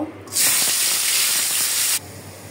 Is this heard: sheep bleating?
no